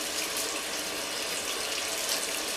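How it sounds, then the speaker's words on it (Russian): Water pours steadily from a broken washing machine that will not stop running, a continuous hiss and splash that stays at an even, fairly close level. "Вода в ней течет,"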